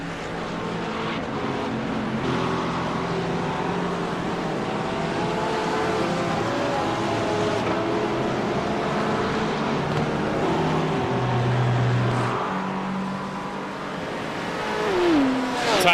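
Sports race cars, including a Porsche, racing at the Virginia Sports Car Grand Prix, a steady loud roar of engines with shifting pitches and a rising car pass near the end.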